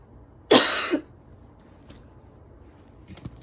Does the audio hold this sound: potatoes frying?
no